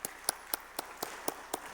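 A church congregation claps in a regular rhythm, about eight sharp, evenly spaced beats in under two seconds, moderately near.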